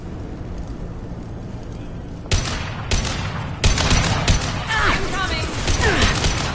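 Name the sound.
gunfire in video game Mass Effect 2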